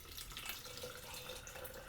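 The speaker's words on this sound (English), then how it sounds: "once we add the water. The 350 millilitres of water." Water, a measured 350 millilitres, pours steadily into a container, a continuous close splashing wash with no talking.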